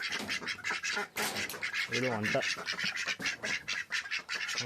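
Ducks quack in short nasal bursts close by, mixed with chatter of other birds and a person talking over them throughout.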